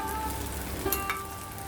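A paste of onion, cashew, poppy seeds and sesame fries in a pan, with a steady close sizzle and a couple of brief stirring scrapes.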